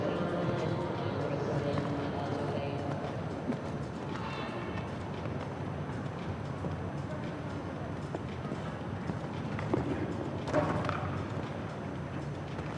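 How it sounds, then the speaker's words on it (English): Horse hooves thud rhythmically on the footing of an outdoor show jumping arena during a CSI3* two-phase class, a faint steady clip-clop under a broad arena background, with a commentator's voice now and then. "Still the horse quite strong in the hand of Leyla Asuman Unsal as she turns now"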